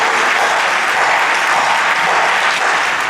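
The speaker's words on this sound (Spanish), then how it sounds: "os rogaría que la aplaudiéramos" An audience at a literary poetry event in Spain bursts into steady, loud applause, a dense wash of clapping that carries on evenly throughout without any speech.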